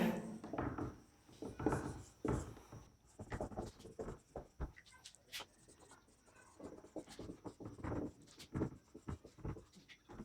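Pen or chalk writing out a definition of direct current in a physics lesson, a close, quiet series of scratchy strokes in irregular bursts with brief pauses between words.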